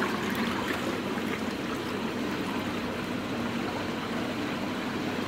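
Pond water rushes back from an Evolution Aqua Nexus 220 filter after its valve is reopened, a constant loud gushing flow heard close and alone for several seconds.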